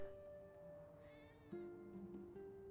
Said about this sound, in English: The kitties!